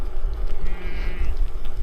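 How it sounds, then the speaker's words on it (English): Cows on a gravel farm track in the Yorkshire Dales, with one short, drawn-out lowing call rising over rumbling wind noise nearby. "And now we've got cows."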